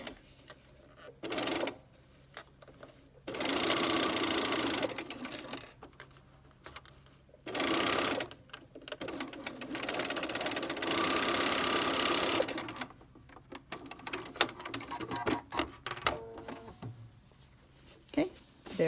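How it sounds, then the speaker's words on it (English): Sewing machine stitching fabric around a curve while making quilted retro ornament blocks, the motor whirring in several bursts of rapid stitching separated by pauses, with someone talking quietly between and over the runs. "You just sew around that curve, just using the edge of your foot, just using that as a guide to line it up with the edge of the fabric."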